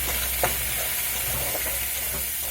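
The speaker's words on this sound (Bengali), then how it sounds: "তারপরে হালকা একটু গুঁড়ামরিচ, কাঁচামরিচ তো অলরেডি বাইটটা দিয়ে দিচ্ছি, গুঁড়ামরিচটা দিতে চাই না, তারপরও দিলাম রঙটা যাতে একটু ভালো হয়।" Onions and green chili fry in a pan as chili powder is added and stirred in, a loud, steady close sizzle and hiss with faint scraping strokes of the spoon, no voices.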